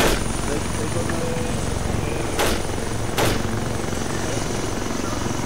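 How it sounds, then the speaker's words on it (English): Military casualty evacuation helicopter running steadily nearby with loud, constant rotor and engine noise throughout, two brief sharper bursts cutting through, and voices partly buried under the roar. "get yourselves on that helo. Because that's the casualty bird."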